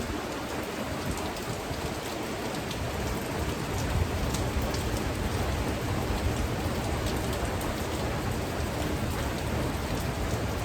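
Steady rain drums on a metal roof in a dense, even patter that holds at a constant level, with light wind in the background.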